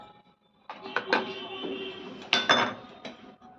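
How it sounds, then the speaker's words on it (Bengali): Dishes being washed at home, with intermittent clinks and clatter of utensils and running water in two short bursts, close and moderately loud. "এ কটা বাসন একটু ধুয়ে নেব"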